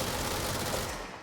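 Rapid continuous firing from a gun emptying its whole magazine in the game Control, a loud, dense, unbroken rattle of shots lasting just over a second.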